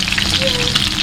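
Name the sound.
salmon frying in a pan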